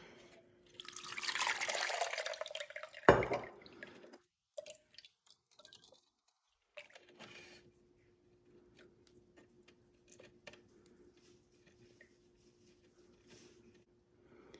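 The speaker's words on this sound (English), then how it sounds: "I'm gonna remove this liquid and pour it down the sink, and then I'm gonna keep rinsing it until my water is clear." Water pours from a bowl of homemade butter into a kitchen sink in a brief gushing splash, followed by scattered drips and light clinks against a quiet hum.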